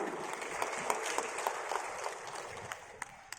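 An audience applauds at an Indonesian political party event welcoming the party chairman, Airlangga Hartarto: steady, dense clapping from a large crowd, continuous for a few seconds with a few sharper claps standing out.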